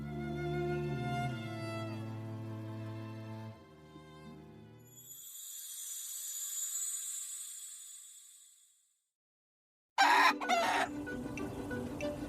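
Chickens cluck and a rooster crows, several calls in turn, followed by a quiet gap and then a sudden loud burst of farmyard noise.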